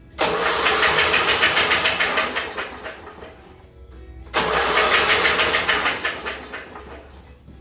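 A 10 hp Briggs & Stratton engine on a go-kart cranks and fires into a loud, chugging run, sags and nearly dies, then catches again with a sharp surge and keeps running close by.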